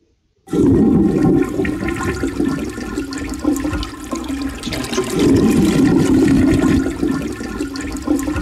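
A chain-pull toilet flushes loudly and close, a sudden rushing surge of water that keeps gushing and swirling steadily for several seconds without pause.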